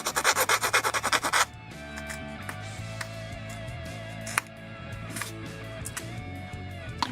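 A plastic Gunpla part for a 1/144 HG Bandai kit is cleaned up with a loud, rapid rhythmic scraping for about a second and a half, followed by quieter handling noises and background music.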